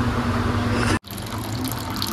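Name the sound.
water being poured into gram flour for batter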